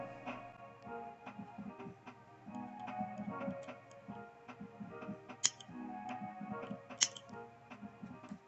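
Acrylic nail tips are clipped, with a couple of crisp snaps standing out among light ticking and clicking handling noises, all close and fairly quiet.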